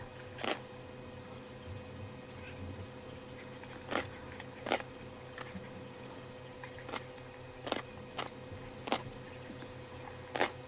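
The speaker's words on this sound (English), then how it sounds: "hyenas have got the jaws and the teeth to really crunch through anything" Out in the Maasai Mara or Serengeti, a hyena crunches through food with its powerful jaws and teeth, giving sharp, irregular cracks and bites spaced a second or two apart over a low steady background hum.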